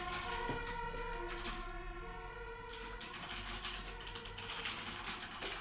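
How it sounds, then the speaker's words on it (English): Emergency vehicle sirens wail steadily outside a house with the windows closed, their rising and falling tones layered and continuous. Sharp clicks and taps like keyboard typing sit close in front of them. "Oh, sirens. Please excuse those sirens."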